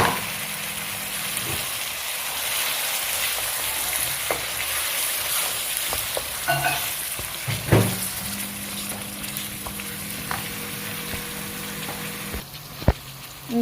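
Chicken dropped into a pan of lightly browned onions sizzles steadily throughout, with occasional clinks and scrapes of stirring cutting through the constant frying hiss.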